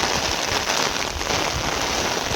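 Rain falls steadily on the surfaces of a farm village in the monsoon, a dense, continuous hiss of drops heard up close without any talking.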